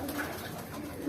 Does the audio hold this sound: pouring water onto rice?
no